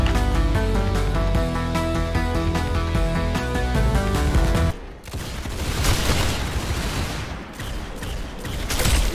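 Rapid gunfire in the video game Arsenal, a dense clatter of repeated shots with a loud musical bed in the first half, then sustained bursts of shooting and booms filling the rest.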